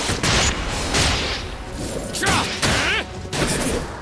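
Airstrike attack explosions in the Dragon Quest game Infinity Strash, a loud, rapid sequence of booming blasts and crashing impacts in quick bursts, with shouted battle voices mixed in.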